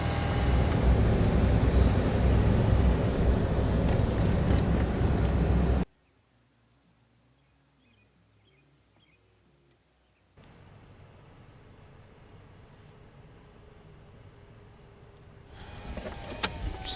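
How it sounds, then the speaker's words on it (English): A pickup truck idles with a loud, steady low rumble for several seconds, then cuts to near silence before a quieter engine hum returns and swells again, recorded inside a vehicle on a Montana hunting trip. "Probably bad audio because I got the truck running"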